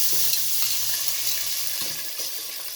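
Ginger garlic paste fries in hot oil, giving a loud, steady hiss and sizzle with occasional soft scraping from stirring, continuous throughout.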